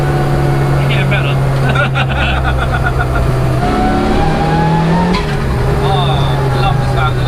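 A 340 BHP turbocharged Peugeot 106 accelerates hard, heard from inside the car, its engine note climbing through gear changes with turbo whistles and a loud continuous roar.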